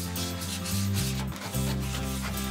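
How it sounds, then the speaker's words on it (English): Steady rough rubbing of medium-grade sandpaper against a wooden bench, removing varnish, close and continuous, with a slight back-and-forth rhythm. "Our next step is sanding down the bench."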